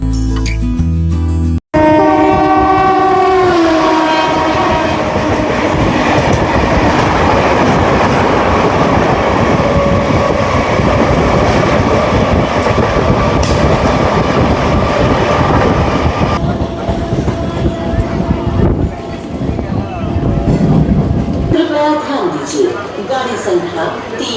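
A Howrah–Bandel local train running, recorded from beside the open door: loud, continuous rumble and rattling clatter of the carriage throughout, with a horn-like tone near the start and a change in the noise toward the end.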